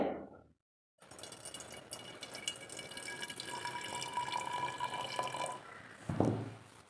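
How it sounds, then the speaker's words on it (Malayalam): Homemade grape wine is poured into glass bottles, a steady close liquid splash and trickle with dripping that runs for several seconds after a short silent gap, then ends with a brief louder knock. "നമുക്ക് ഈ കുപ്പിക്കകത്തൊന്ന് ഒഴിച്ചു വെക്കാം നമ്മുടെ വൈനെ"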